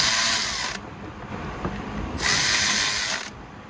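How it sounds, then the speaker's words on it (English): A hand ratchet tightens an ignition part on a car engine being repaired for a misfire, with two close, fast bursts of clicking pawl teeth separated by a short pause. "Get that started. Flip our ratchet around."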